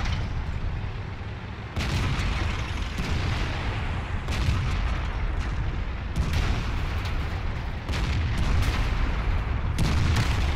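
Tank cannon fire in World of Tanks lands as several heavy booms spaced a few seconds apart, each blast loud and close over a continuous rumbling background.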